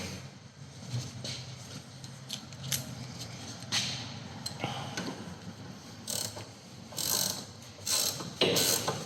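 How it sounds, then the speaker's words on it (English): A ratchet spanner clicks rapidly while tightening a control arm bolt on a Citroen C4 Cactus, bursts of close metallic ratcheting separated by short pauses and small clanks. "So we get our 230 ratchet spanner on it."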